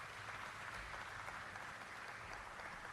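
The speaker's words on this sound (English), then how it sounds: "Please give them a round of applause." Steady audience applause at an official opening of a new Pepsi production line, a dense, even wash of many hands clapping throughout, fairly distant and uniform.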